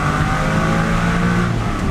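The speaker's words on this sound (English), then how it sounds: "Let's put some windows down here and listen to the car." A 1998 Porsche 996 911 drives with its windows down, its engine a steady, loud drone with road and wind noise and no voices.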